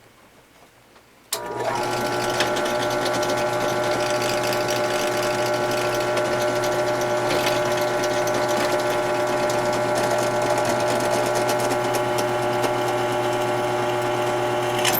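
A power drill bores steadily into a knife handle during rehandling, starting abruptly after a quiet moment and then running as a loud, constant mechanical whine with a steady tone, no talk over it.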